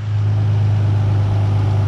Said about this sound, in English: I turned on the car just to test it